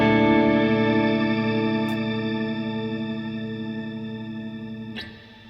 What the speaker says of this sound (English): you've got this shimmer sound